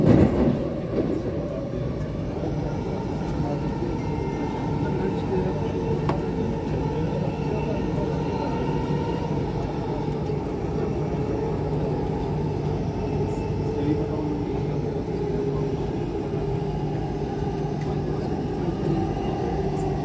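Steady low rumble and rattle of a Dubai Metro train underway, continuous throughout, with an announcement voice speaking faintly over the noise.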